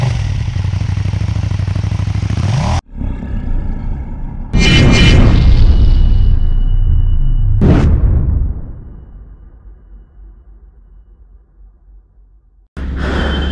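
A KTM Duke motorcycle engine roars loudly up close, cuts out abruptly, then bursts back with a heavy revving surge that fades into a low idle before another loud burst.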